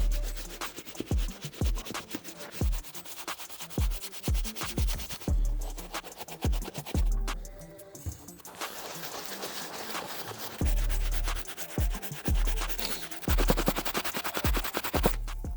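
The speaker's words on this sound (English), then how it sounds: "I'm going to use the soft bristle brush on the uppers and insides to start breaking down the grime and dirt." A soft bristle brush scrubs the grimy uppers and insides of a worn Air Jordan 3 Tinker sneaker, giving repeated close, rhythmic scratchy strokes with a few brief pauses and no talking.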